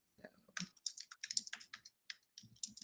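Someone types on a computer keyboard in quick, uneven bursts of soft clicks, close and faint, with a few breaths or mouth sounds between.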